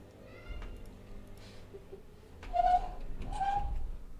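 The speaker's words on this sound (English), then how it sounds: "Sorry, I need to let my cat in." A cat meows twice in quick succession, fairly close, after a few softer sounds; no one speaks.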